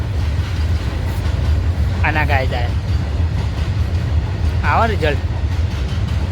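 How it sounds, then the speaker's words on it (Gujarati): A passing train makes a continuous heavy low rumble from start to finish, while someone speaks briefly twice over it. "ટ્રેન જાય તો ટ્રેન જાય જુઓ"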